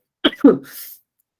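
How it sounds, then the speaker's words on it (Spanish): Two sharp, close coughs in quick succession, followed by a brief breathy exhale, then silence. "No sé qué me pasó, que me está dando tos."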